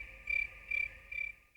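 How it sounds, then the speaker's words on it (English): Crickets chirp in three short, evenly spaced bursts, steady and fairly close, with no other sound. "Crickets."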